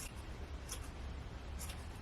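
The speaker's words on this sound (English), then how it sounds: "The more you cut, the more fluffy your pom-pom will become." Scissors snipping through wool while trimming a yarn pom-pom, a few soft, close cuts spaced apart over a steady hiss of background noise.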